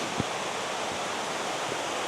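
A constant, broad rushing roar of Benton Falls waterfall fills the scene, steady and unbroken, with no voices.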